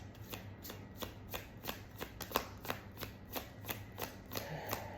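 Tarot cards being shuffled in a steady rhythm of crisp riffling bursts, about two per second, close and moderately loud with no talking.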